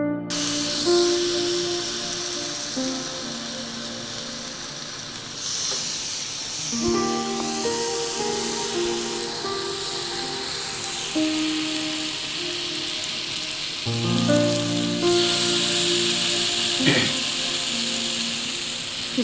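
Vanjaram (seer) fish frying in hot oil gives a steady, fairly loud sizzling hiss that runs throughout, over a constant tonal background.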